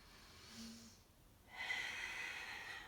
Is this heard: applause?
no